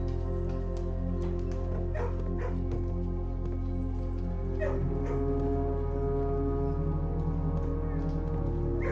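Dog barking in the puzzle game Blue Prince, a few yips and barks standing out over a steady droning hum of background music.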